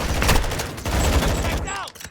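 Gunfire in Call of Duty: Modern Warfare II, dense bursts of shots rattling loudly and close during a firefight, with a shouted voice briefly near the end.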